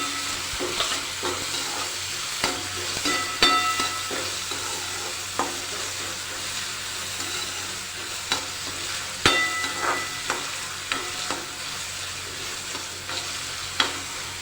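Green peas frying in a pan of vegetables while making tikhi sev, a steady soft sizzle under intermittent scraping and clicking stirring sounds, close and fairly quiet throughout.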